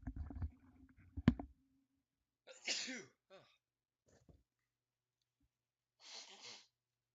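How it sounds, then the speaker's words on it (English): A single sharp sneeze bursts out close and loud in a quiet room during a tabletop board game session, followed by a few faint breaths and rustles, then near silence. "Got a sneeze quickly."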